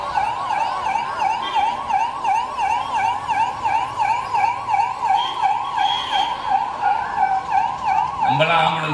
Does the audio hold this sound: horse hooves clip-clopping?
no